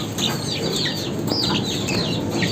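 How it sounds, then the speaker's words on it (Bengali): Young black chickens peep and chirp continuously at close range, many high, rapid calls overlapping with no talk. "এগুলো হলো ওই যে কালো মুরগির বাচ্চা।"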